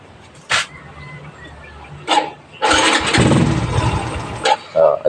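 A Suzuki Raider 150 motorcycle with a carburetor being tuned: a few short revving bursts, then a louder, rough, sustained run of the engine up close that falters and fades, with another short burst at the end.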